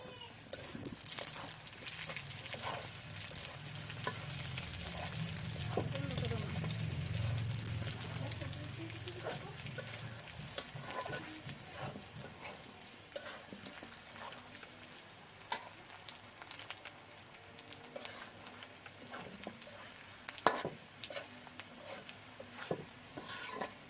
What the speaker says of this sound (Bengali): আলু আর পেঁয়াজ তো ভালো করে ভাজা ভাজা হয়ে গেছে